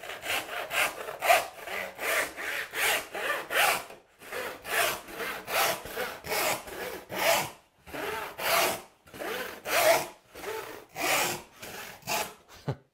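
Hand saw ripping eighth-inch plywood in quick, steady back-and-forth strokes, loud and close, with a few brief pauses between bursts and no voices.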